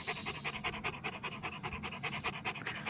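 A dog pants steadily and close by, quick rhythmic breaths running through the whole stretch with no talk over it, somewhere snowy.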